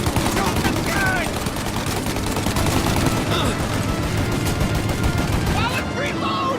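Gunfire fills a shootout in Mafia Definitive Edition, with dense overlapping bursts of automatic and single shots rattling almost nonstop, loud and close, while voices shout over the noise.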